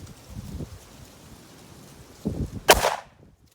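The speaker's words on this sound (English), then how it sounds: "That is punishing recoil for a little 125 grain 38 special bullet." A single 125 grain Underwood 38 Special +P FMJ round fired from a short-barrel gun gives one sharp, loud, close report with a brief ringing tail, preceded by a few soft handling thumps.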